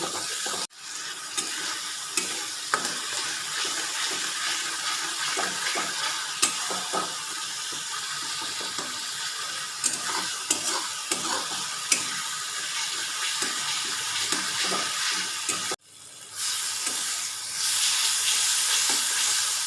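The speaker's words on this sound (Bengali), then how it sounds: "নুন আর হলুদ। এবার ভালো করে কষিয়ে নেব।" Tilapia fish head sautéing with salt and turmeric in a pan, a steady hissing sizzle broken by frequent spatula scrapes and taps, close, with a brief dip before the frying swells louder again; no voices.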